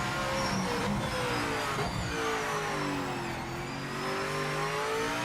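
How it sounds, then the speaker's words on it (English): A race car in Project Motor Racing revs hard with rising and falling engine pitch, turbo whistle building as it spools up, loud and continuous with no talk. "I love hearing the turbo like dig in and spool up."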